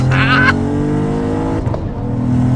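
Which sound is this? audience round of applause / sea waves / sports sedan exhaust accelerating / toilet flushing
sports sedan exhaust accelerating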